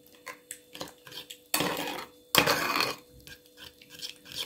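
Utensils scrape and clatter against a pan while an onion kebab mixture is stirred, light clinks followed by two louder rasping, sizzling stirring bursts, close and with no talk.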